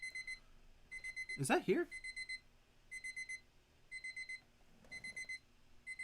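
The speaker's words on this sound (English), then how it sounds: "What's beeping?" Repeated electronic beeping in short regular bursts, like an alarm clock going off, sounding steadily through the clip while a voice speaks briefly over it.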